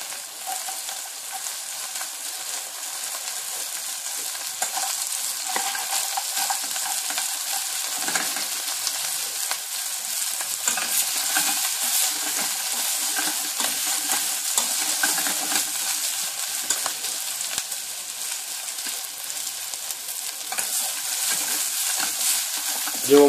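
Bread cubes sizzling and crackling in hot oil in a pan for sopa castellana, a steady dense frying hiss lasting throughout, close and fairly loud.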